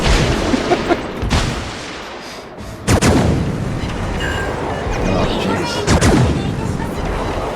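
Naval gunfire in the World of Warships Legends game: heavy booming shots land near 3 and 6 seconds over a constant rumbling battle background, with someone talking throughout.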